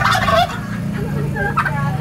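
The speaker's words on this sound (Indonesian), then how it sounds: "Tuh, bunyi kokokan itu." A large turkey gobbles in loud, rattling bursts, several calls in quick succession over about two seconds, close by with steady low background noise.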